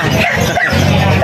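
Small dogs, golden puppies among them, yipping and whimpering in quick bursts close by, with a steady low hum underneath and no talk.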